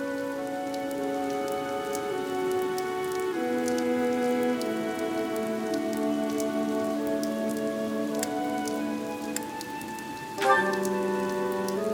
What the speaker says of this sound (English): The rain is really coming down now.